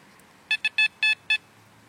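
Metal detector sweeping a hand with a ring still on it gives five short, clear electronic beeps in an uneven rhythm over a quiet background.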